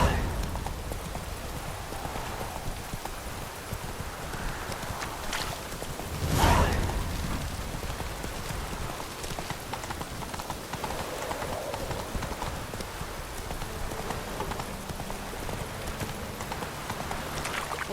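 Hooves of a horse clip-clopping steadily in The Witcher 3: Wild Hunt, a continuous trotting rhythm under faint ambient game sound, with a brief louder thump midway.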